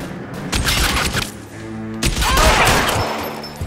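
Heavy gunfire in an L.A. Noire shootout, with dense bursts of shots and booms through most of the stretch, loud and close, a brief dip midway before the volley resumes.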